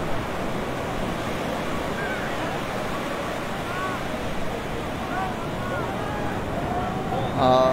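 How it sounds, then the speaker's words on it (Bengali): Continuous roar of breaking ocean waves on the beach at Cox's Bazar, with wind buffeting the microphone and distant murmuring voices, swelling louder right at the end. "এই যে আজকে প্রচুর পরিমাণ ঢেউ।"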